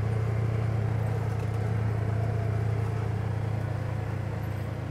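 A vehicle drives across a grassy pasture, its engine a steady low rumble that holds evenly throughout, with no voices over it.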